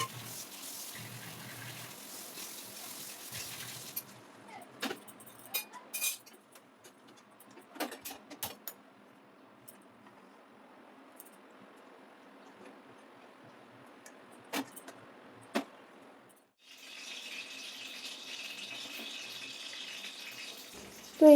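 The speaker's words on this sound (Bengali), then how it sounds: "সেই জন্য কড়াটা আরও ভালো করে ধুয়ে নিচ্ছি" Water running into a wok (kadai) being rinsed, a steady hiss of tap water with clanks and scrapes of the metal pan, pausing then starting again near the end.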